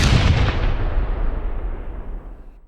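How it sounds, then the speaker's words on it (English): Remote mines detonating in the video game Perfect Dark Zero, a loud booming blast that rumbles and slowly fades away. "Secondary function throws out remote mines, which you can then detonate using the left trigger."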